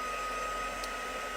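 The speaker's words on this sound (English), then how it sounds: "So just bear with me while I use the heat tool. Just going to emboss this. It takes a second to warm up." A heat tool for embossing powder on vellum runs steadily while warming up, a constant airy blower hiss with an even, unbroken level and no voices.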